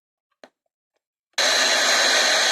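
A radio receiver is switched on: a faint click, then a sudden loud, steady broadband hiss that fills the rest of the moment.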